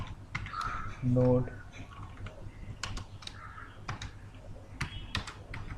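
Code is typed on a computer keyboard: quick, uneven bursts of soft key clicks close to the microphone. Someone speaks briefly between the keystrokes, and a crow caws once in the background.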